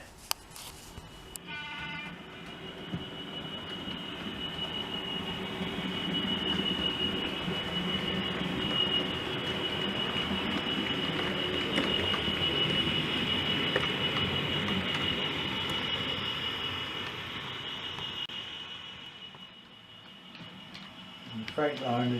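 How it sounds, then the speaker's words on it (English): Model railway freight train rolling along the track on a layout, a steady mid-level running rumble with faint wheel squeal that swells and fades over about twenty seconds, with no talking. "The freight line is going to come off the main line and run into the goods release road to allow a passenger to go by in a minute."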